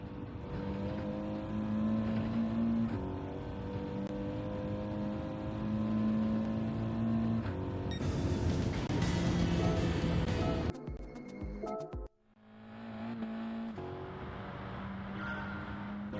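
A race car engine at Asia Circuits in Gran Turismo 7 drones and climbs through the revs, dropping with shifts, then cuts briefly to near silence before the engine note returns; no voices.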